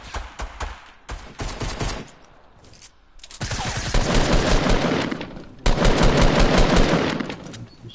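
Fortnite gunfire in a squads match, loud sustained automatic bursts and rapid volleys with short pauses between, dense and close throughout.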